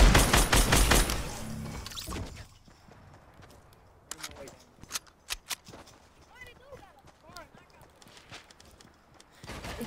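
Fortnite gunfire plays as a quick burst of rapid shots at the start, followed by scattered single shots and footstep-like clicks while players talk over the game.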